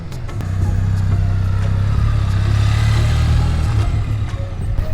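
Can-Am Ryker three-wheeler taking a slow turn on a small course, its engine a steady low hum that swells gently and then eases off, close and continuous with no voices.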